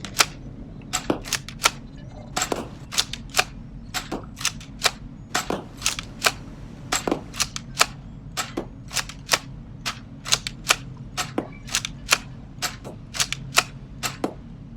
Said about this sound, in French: On va faire les tests de tir en extérieur pour voir la portée et puis voir un peu ce que ça donne en extérieur.